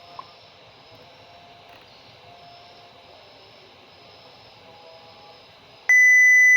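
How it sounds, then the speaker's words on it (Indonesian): A microcontroller buzzer switching on: after several seconds of quiet electrical hum, a loud, steady electronic tone begins abruptly near the end and holds without a break. "Lalu selanjutnya juga kita bisa nyalakan buzzernya."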